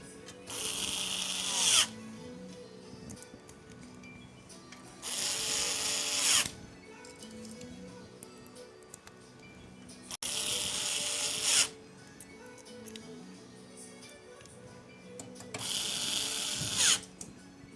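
A power driver runs in four separate bursts, each about a second or two long, while screws go into a PC radiator during a white 9800X3D and RTX 5080 build. There is a quieter mechanical background between the bursts.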